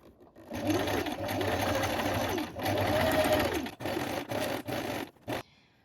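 A sewing machine set to its longest stitch length runs steady, long bursts while gathering a dress seam about 5 mm from the fabric edge, with brief pauses and a final short run.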